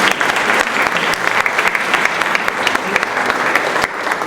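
Sustained applause from an audience at a town honours evening for local champions and graduates in Saint-Claude, dense and steady clapping filling the whole stretch with a brief dip near the end.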